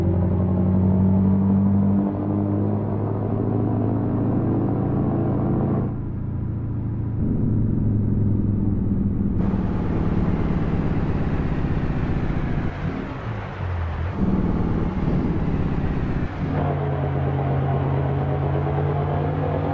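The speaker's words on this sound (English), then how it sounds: "I love the sound of this engine, the V8." A V8 truck engine in Euro Truck Simulator 2 rumbles steadily with low thumping tone, shifting pitch as gears change and the load varies, continuous and fairly close.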